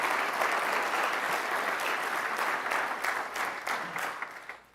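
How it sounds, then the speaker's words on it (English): Audience applause for sponsors at the 2021 Mackinac Policy Conference, a steady, full wash of clapping from a large crowd that tapers slightly toward the end. "Please, a round of applause for all of our sponsors."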